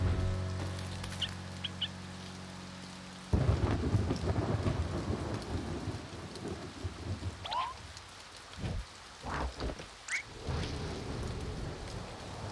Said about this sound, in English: It's raining, bud.